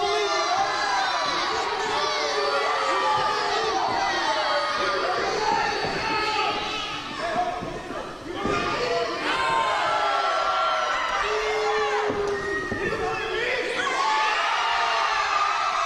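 Wrestling event crowd at a lucha libre show cheering and shouting steadily, a loud, continuous roar of many voices with whoops rising and falling, a commentator's voice mixed in.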